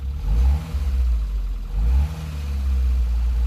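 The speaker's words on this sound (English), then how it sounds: "if I rev it up, it pegs 100" A car engine idles with a low rumble, then revs up twice in quick surges to about 2,000 RPM before settling into a higher sustained drone, close by.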